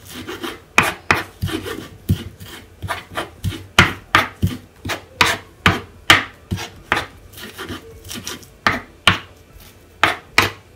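Knife chopping fresh parsley on a wooden board, sharp rhythmic cuts, about two or three per second, close and clear with no talk.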